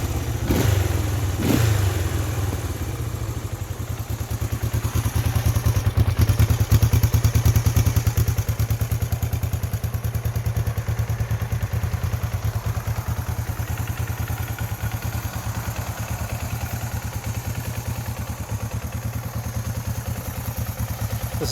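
Honda CL450 Scrambler motorcycle engine fires up on the electric starter and settles into a steady, loud twin-cylinder idle close by, with a brief clatter at the start and no talking.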